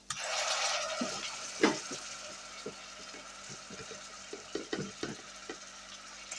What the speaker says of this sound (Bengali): তো এখন আমি দিয়ে দেব বাটা পেঁয়াজ